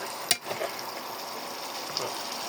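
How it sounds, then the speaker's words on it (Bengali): Chicken meat sautéing in a pan for a curry with gravy, a steady soft sizzle running throughout with a brief clatter near the start. "কেবল এখনও মাংসটা কষানো হচ্ছে"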